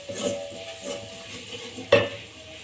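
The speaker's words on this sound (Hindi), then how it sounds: "इन सारे मसालों को अच्छे से भून लेंगे" Spices and red chili powder frying in a pan give a soft sizzle, with a few rhythmic stirring scrapes and one sharp clink of spoon on pan near the end.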